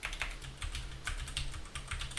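Close, rapid computer keyboard typing, a steady run of light key clicks heard alone with no talk.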